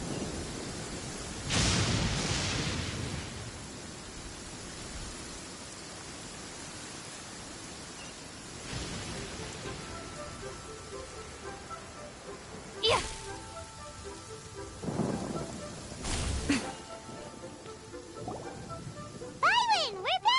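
Rain keeps up in a video game storm, a steady hiss of rainfall with several loud thunder cracks and rumbles breaking through at intervals, and a voice near the end.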